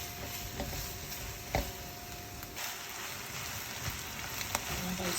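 Thai rice frying in a pan with marinated chicken drumsticks, a steady close sizzle with a few faint clicks and scrapes as it is stirred.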